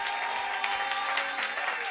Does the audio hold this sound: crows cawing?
no